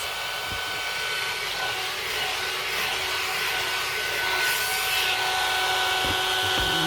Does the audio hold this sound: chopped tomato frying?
no